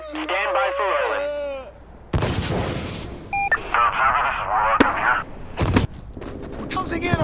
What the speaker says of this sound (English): We need air to strafe this area. Light it up!